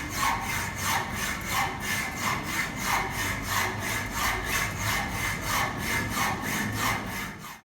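A hand saw cuts through an iron workpiece at a bench-work practice station, steady rhythmic back-and-forth strokes, roughly two per second, close and continuous throughout.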